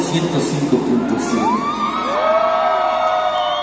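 A crowd at a DJ event in Centro Cívico, Ecatepec, shouts and cheers loudly, with excited yells and whoops, some voices rising into long high calls that trail off.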